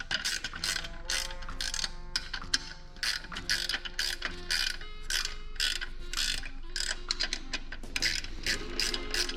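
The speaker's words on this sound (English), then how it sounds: "I'll go ahead and put my ratchet wrench on here and tighten these down nice and snug" A ratchet wrench tightens bolts on a Cyrusher XF 900 e-bike, giving rapid, close metallic clicking in steady bursts with brief pauses between strokes.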